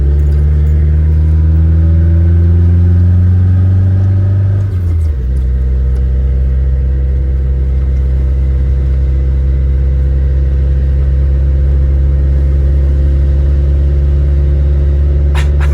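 A 1968 Fiat Spider 124 engine on a snowy road, loud close drone rising in pitch as it accelerates, dipping briefly mid-way at a shift, then settling into a steady heavy rumble.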